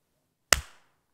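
A single sharp hand clap rings out in a quiet room and decays quickly into silence.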